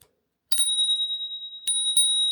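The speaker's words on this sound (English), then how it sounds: "And then we have our little bell" A double bicycle bell built into the handlebar of an electric folding bike rings close up in two bright rings, the first with a quick double strike and a sustained shimmer, the second ringing on after it.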